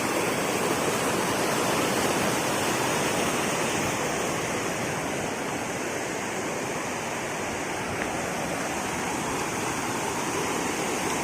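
A steady, powerful roar of the Orappankettu waterfall at Peechi, Thrissur, fills the whole clip, loud and close, with no voices over it.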